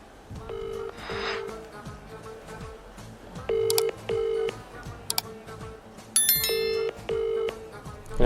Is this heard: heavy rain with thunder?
no